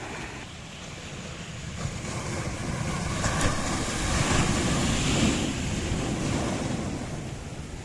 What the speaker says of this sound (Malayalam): നല്ല അത്യാവശ്യം നല്ല ശക്തിയിൽ തന്നെ തിരമാലകൾ അടിച്ചുകൊണ്ടിരിക്കുകയാണ്